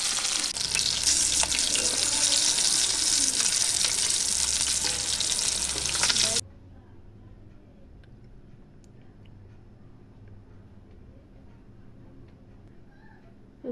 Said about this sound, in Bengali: উল্টে পাল্টে ভালো করে মাছটা ভেজে নেব লাল লাল করে।